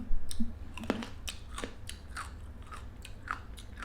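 Close, crunchy chewing and biting of shrimp soaked in fermented fish sauce, eaten with fresh vegetables, in irregular wet bites with soft murmurs between them.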